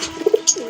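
A pigeon coos in a short, close burst of two or three soft low notes, with a brief higher chirp just after, and no voices over it.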